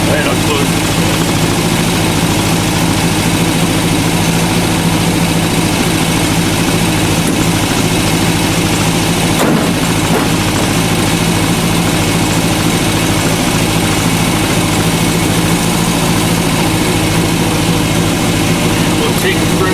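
An MG MGA sports car engine runs steadily at idle, a loud, continuous low rumble with a brief clunk partway through, and a voice talks over it.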